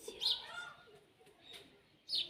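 Sparrows chirp near a home garden, two short, faint tweets about two seconds apart over quiet background.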